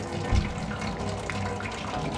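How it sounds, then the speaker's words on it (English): Warm water runs from a tap into a plastic hamster cage part, a steady close splashing flow with a brief louder gush near the start. "You want to put warm water in there so it'll make it where it will come off easier instead of cold water."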